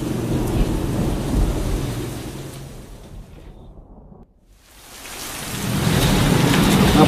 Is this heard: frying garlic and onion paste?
no